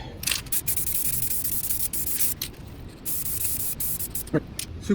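A spray can lays a light coat of paint on the roof of a 2011 Jeep Grand Cherokee, making a close, steady hiss in several long passes broken by short gaps.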